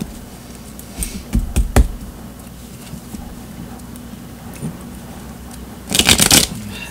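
Tarot cards being shuffled by hand, with a few soft riffling bursts around the first two seconds and a louder, denser flurry of card shuffling near the end against a quiet room background.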